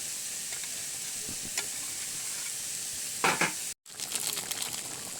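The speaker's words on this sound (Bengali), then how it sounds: "জিরে বাটা দিয়ে দিচ্ছি, জিরে বাটা দিয়ে একটু ফুটিয়ে নেব।" Fish curry with cumin paste cooking in a pot, a soft continuous sizzle with a few scraping stir sounds and a brief cut, close and quiet with no talk.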